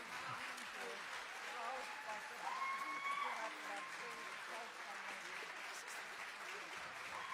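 Audience applause at the Músíktilraunir 2026 final-night band contest, a steady crowd of clapping hands of moderate loudness held throughout, with some speech mixed in.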